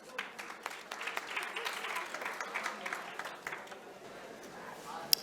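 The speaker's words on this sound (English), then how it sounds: "Let's welcome Sir by giving him a round of applause" Moderate applause from an audience at an international language and literature conference welcomes a keynote speaker, distinct claps rising into a steady patter that thins out toward the end, with faint murmuring underneath.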